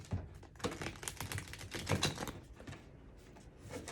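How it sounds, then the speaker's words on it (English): A tarot card deck is shuffled by hand, giving a close series of quick, crisp riffling and tapping clicks that fade toward the end. "I'm going to shuffle the deck."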